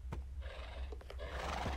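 In the Minecraft video game a horse gives a brief whinny with a rising-and-falling neigh, fairly close and clear over a low background hum, with no talking.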